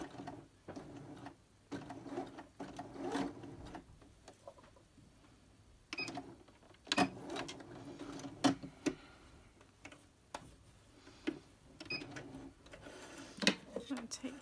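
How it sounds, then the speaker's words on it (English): Sewing machine stitching a book cover, running in short bursts of rapid ticking stitches separated by pauses, quiet and close, with a voice speaking between runs. "we've got our needle coming down from the machine"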